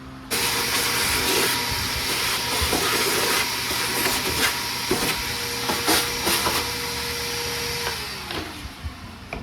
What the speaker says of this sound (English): The vacuum over here real quick.